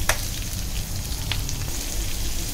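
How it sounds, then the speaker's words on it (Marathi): Chopped onion sautéing in a pan, a steady soft sizzle with a few sharp spits and crackles, low rumbling beneath, no talking. "छान कांदा परतून घ्यायचा आहे ट्रान्सपरंट होईपर्यंत"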